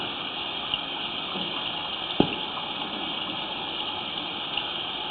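Water runs through an underground sewer pipe beneath an alleyway, a steady hollow rushing wash heard from above, with a few faint knocks and a single sharp tap.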